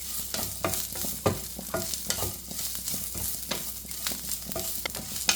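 Green chillies and ginger frying in a pan for a Kerala-style okra curry, stirred with a steady series of close scrapes and taps over a low, continuous sizzle.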